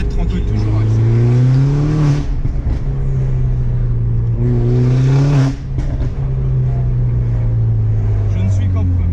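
A Mini car accelerates hard through its gears, the engine note rising loudly and steadily with two brief dips at gear changes, close and continuous, with speech over it.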